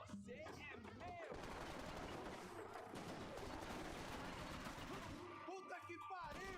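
Sustained automatic AK rifle fire rattles in long bursts during a Max Payne 3 firefight, dense and continuous with a brief gap, set against loud game ambience.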